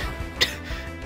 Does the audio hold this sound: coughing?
yes